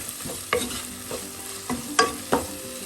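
A spoon stirs salt into sizzling onion and tomato for a sardine curry base, a steady close fry punctuated by four or five distinct scraping strokes against the pan, no talking.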